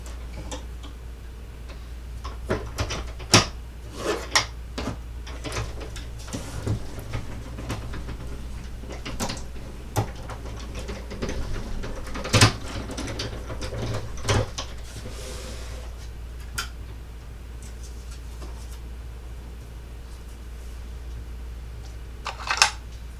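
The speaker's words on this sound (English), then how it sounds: "we're going to run this through our die cut embossing machine" A die cut embossing machine feeds a die cut plate through for a card, giving an irregular run of clicks and ticks over a low steady hum for about twenty seconds, close and moderately quiet.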